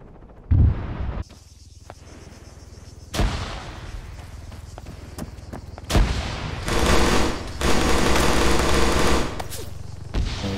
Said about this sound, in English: We hear the gunfire across the street.